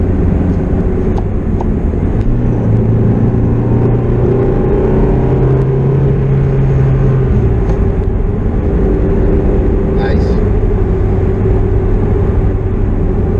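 A loud, steady engine drone from a Toyota SW20 MR2 sports car rumbles throughout at low revs during a torque pull, a deep continuous pull with little change in pitch and no talking.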